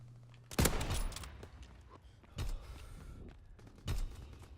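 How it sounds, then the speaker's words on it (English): Short bursts of gunfire in Call of Duty WWII, a World War II shooter game, arrive as three separate rapid volleys a second or two apart, sharp and moderately loud, with a faint tone before the first. "And is a machine gun."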